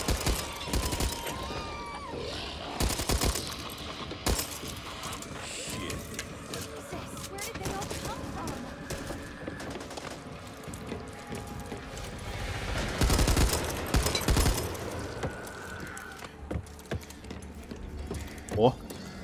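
Gunfire in the co-op zombie shooter Back 4 Blood: repeated bursts and rapid shots under a chaotic mix of game sounds, with a player's voice talking throughout.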